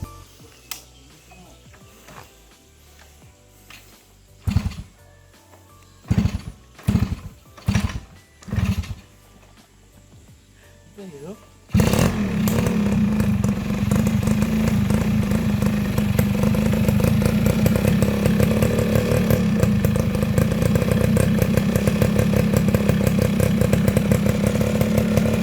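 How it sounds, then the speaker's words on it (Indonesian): A restored Yamaha F1ZR two-stroke motorcycle with an RX-King CDI takes several sputtering kick attempts, then fires up and settles into a loud, raspy, continuous idle close by. "Sekarang untuk pengetesan kita bakal coba hidupin motornya, sekalian juga kita dengar suara motornya seperti apa"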